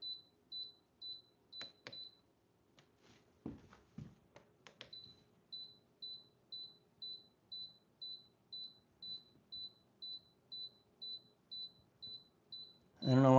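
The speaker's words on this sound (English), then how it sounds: "I don't know why it's beeping." A new electronic shirt press beeps in a steady series of short, high tones at a regular pace, with soft knocks and handling noises in between.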